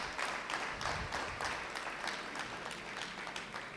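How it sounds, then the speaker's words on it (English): A crowd claps steadily at an awards ceremony, many hands applauding together at a moderate distance, rhythmic and sustained without voices. "gee julle self 'n round of applause."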